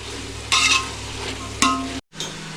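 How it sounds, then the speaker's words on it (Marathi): Vegetables for veg pulao stir-fried in hot oil, a close sizzle rising in two sharp bursts as the pan is stirred, then a brief cut before the frying hiss resumes. "ते भाज्या पण व्यवस्थित सर्व तेलामध्ये एकदम परतवले पाहिजे"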